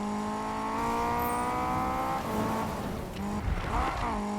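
Honda Integra DC5, a front-wheel-drive car, sliding in the Need for Speed 2015 video game: a loud, steady engine drone with tire noise that wavers toward the end, no voices.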